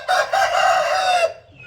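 An Aseel rooster crows once, close and loud: a single sustained call lasting just over a second, with a brief break near the start, then fading into quiet.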